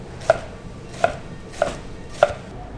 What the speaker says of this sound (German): Und dann schneiden wir den Rest auch in Streifen.